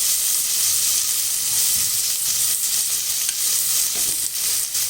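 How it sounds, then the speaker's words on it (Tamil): A medium onion frying with ginger garlic paste in a pan for a goat trotter paya side dish, a steady loud sizzle with occasional stirring scrapes, no talking. "ஒரு மீடியம் சைஸ் வெங்காயம், இது நல்லா வதக்கிடலாம்"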